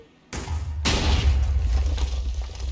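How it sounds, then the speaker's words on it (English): Minecraft explosions: a sudden loud boom followed by a second blast, then a heavy low rumbling roar that lingers and slowly fades. "So many explosions."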